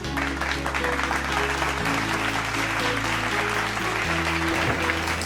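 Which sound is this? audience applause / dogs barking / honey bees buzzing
audience applause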